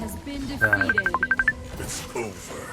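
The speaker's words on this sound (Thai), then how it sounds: "ใครโทรศัพท์เข้ามาเนี่ย" A rapid run of about a dozen short phone dialing beeps sounds during a mobile game session, evenly pulsed and clear, with a voice talking underneath.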